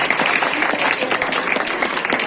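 Dense applause from a seated audience at a speech about Savitribai Phule, steady and loud throughout with many overlapping hand claps and no clear voices.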